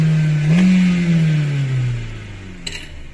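A Kia Ceed with 315,155 km on it revs its engine: the pitch climbs quickly, holds briefly, then winds down over a couple of seconds, close and loud, ending with a short clatter.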